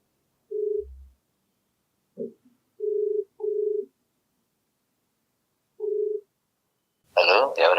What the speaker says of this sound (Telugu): ఒకసారి కాల్ చేసి మాట్లాడదామండి